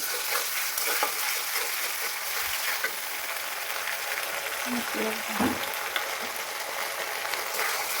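Ginger-garlic paste fries with onions in a pan for chicken biryani, a steady hiss of sizzling oil with a few soft scraping stirs, moderately close and with no talking.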